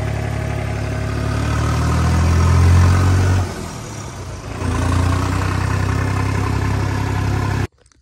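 A 3630 4x4 tractor engine runs loud and close with a deep steady drone, revving up briefly, dipping, then holding steady before cutting off abruptly near the end.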